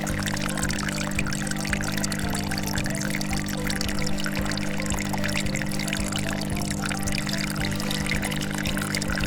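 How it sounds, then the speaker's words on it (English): Water poured steadily onto plants, a continuous close liquid pour with a low, humming, rhythmic background throughout. "Water the plants."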